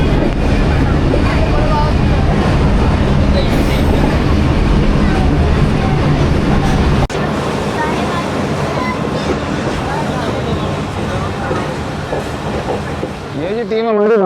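A passenger train rolls steadily through Sahiwal railway station, a loud continuous rumble and rattle of wheels on track heard from on board, with voices talking over it.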